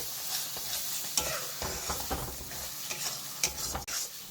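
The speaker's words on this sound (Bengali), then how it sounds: "মশলাটা আমি এবারে কষাই নেবো ভালো করে, যত সময় তেল না বেরাচ্ছে মশলাটা থেকে।" Spice paste for a rohu fish curry fries and is stirred in hot oil, giving a steady close sizzle broken by scraping spoon strokes and a few sharper clicks.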